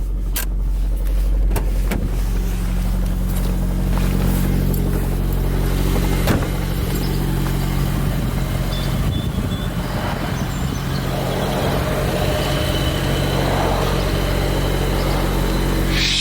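A rebuilt Nissan Skyline R33 engine running with a steady, loud low rumble and some mechanical rattle close by, holding fairly even throughout with no talking.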